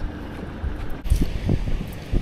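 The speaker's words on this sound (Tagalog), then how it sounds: "Lakas ang hangin." Steady wind buffets the microphone in low rumbling gusts, with a few heavier thumps and a faint hiss of air throughout.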